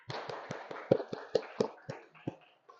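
Schoolchildren clap their hands together in a classroom, a quick series of sharp, separate claps in an uneven rhythm that trails off into a few softer final taps, with no talk over them.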